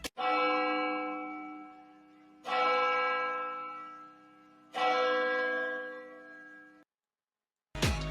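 A church bell tolls three times, each deep resonant strike ringing out and slowly fading before the next, followed by the start of a fourth.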